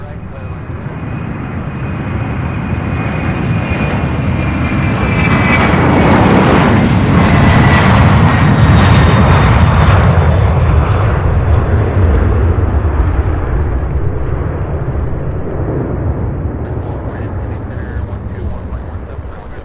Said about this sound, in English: UPS 2846, followed by that MD-11 heading to Seattle.